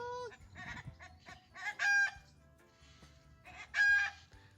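Two crows from a cockerel in a Moroccan yard, each loud, near and a few seconds apart, with soft clucking and faint farmyard noise in the gaps.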